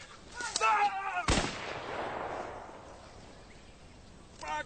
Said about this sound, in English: Max, put down the rifle